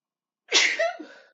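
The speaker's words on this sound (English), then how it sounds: "I'm about to sneeze." A single close, sharp human sneeze after a moment of silence, with a short breathy tail.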